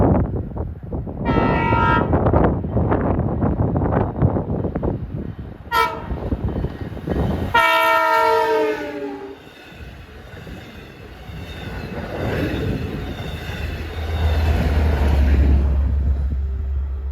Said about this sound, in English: We got a westbound equipment train.